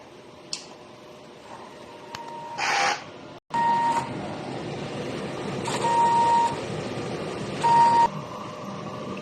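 A DTF printer whirs and clicks through a head-cleaning cycle, with a carriage rushing past, steady motor hum, and short electronic beeps at intervals.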